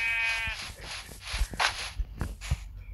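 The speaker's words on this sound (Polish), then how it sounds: "Dobra, jest owca." Sheep in a survival video game bleat several times in quick succession, fairly close, with soft footstep-like thuds between calls.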